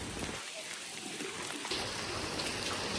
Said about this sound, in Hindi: चलो बारिश बहुत तेज हो गई है।